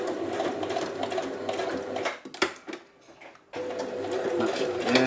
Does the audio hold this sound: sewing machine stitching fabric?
yes